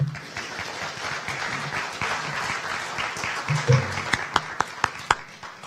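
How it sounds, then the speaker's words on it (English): Audience applause at a Nelson County Republican debate, a steady spread of clapping across the room that thins out into a few louder, separate claps near the end. "Will you give them a round of applause, please?"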